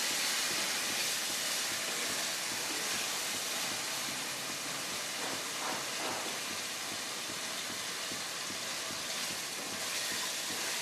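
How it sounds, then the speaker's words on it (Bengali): Pointed gourd fries in oil with a splash of water in a pan, giving a steady loud sizzle and hiss throughout, no voices. "আমি একটু সামান্য জল দিয়ে দিয়ে ভাজছি যাতে জিনিসটা পুড়ে না যায়।"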